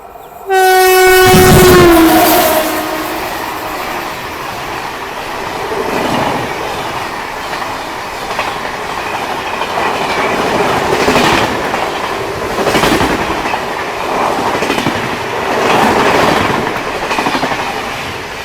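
A loud train horn blasts at the start, then a Bangalore–Anantapur MEMU train rolls past with rhythmic clattering wheels and rumbling that swells and fades.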